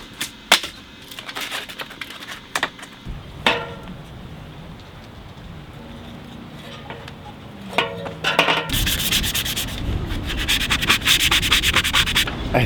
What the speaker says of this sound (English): I think I'm done sanding.